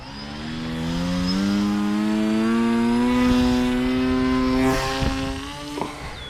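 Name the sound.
FPV drone Reptile Dragon 2 with 9-inch props throttling up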